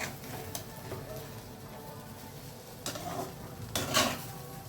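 Poha being stirred in a pan with lemon juice, with soft scraping and a few clinking hits of a spoon against the metal, scattered over several seconds under faint background noise.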